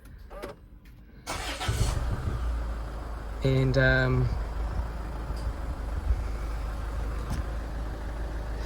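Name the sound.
Range Rover Evoque engine starting and idling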